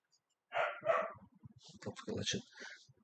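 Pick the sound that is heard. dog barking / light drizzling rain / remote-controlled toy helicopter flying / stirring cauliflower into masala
dog barking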